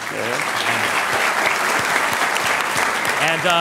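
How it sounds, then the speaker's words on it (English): A debate audience breaks into a round of applause, a loud, continuous wash of clapping close by, with a few voices faintly underneath. "Let's give him a round of applause."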